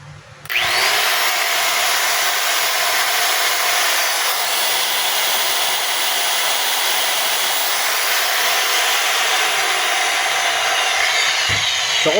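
A repaired DeWalt DW810 4-inch angle grinder switches on and runs continuously with a loud, smooth high-pitched whine, close and steady for the whole stretch before winding down at the end.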